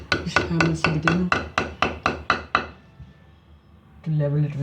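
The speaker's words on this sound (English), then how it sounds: "just hammer it in" A hammer drives a screw into a ceramic-tiled kitchen wall: about ten sharp, evenly spaced close metallic taps, then a short pause before a voice speaks.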